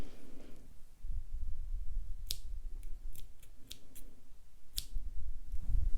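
Scissors snipping crochet yarn, several quick sharp metallic clicks spaced unevenly over a low, soft rumble of handling noise.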